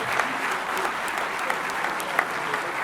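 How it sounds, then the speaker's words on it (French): Steady crowd applause greets the Roc La Voulte Valence rugby team at its season presentation evening, dense continuous clapping with a few sharper claps standing out. "Sous vos applaudissements pour le Roc La Voulte Valence."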